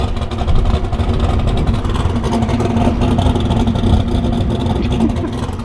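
A tuned car engine running and revving, a loud steady mid-pitched drone held throughout at close range with slight swells in pitch, no talk.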